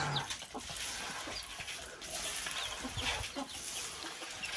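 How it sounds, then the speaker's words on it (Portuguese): Chicks clucking and cheeping around feed at a farmyard, a busy chorus of small birds in a steady, fairly close wash with scattered sharper peeps. "Lourdinha dando comida aos pintinhos chegaram agora."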